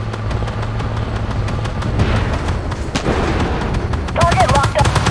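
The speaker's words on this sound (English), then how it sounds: "The artillery. Where are they shooting from?" Artillery and heavy gunfire in the tank combat game Armored Warfare, a dense run of booms and shots throughout, growing sharper and more rapid near the end, with radio-style voices underneath.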